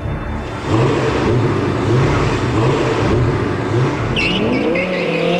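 A car powered by a 520 hp Lamborghini engine launches indoors on a record speed run, engine rising through repeated revving surges as gears change, with a brief tire squeal near the end, loud and close.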